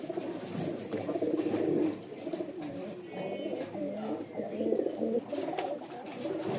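Lal Sundori pigeons coo in a loft, a low, throaty burbling that rises and falls close by in overlapping phrases, with no one speaking.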